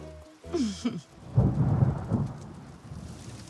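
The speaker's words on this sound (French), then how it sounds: "On peut toujours essayer de l'ignorer, cette pluie." Cartoon thunderstorm with rolling thunder rumbles over steady pouring rain, loud and close, with no talking.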